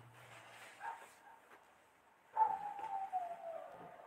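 A dog barks and yips at a distance in a quiet room, a few short faint calls followed by a whining, drawn-out vocal tone.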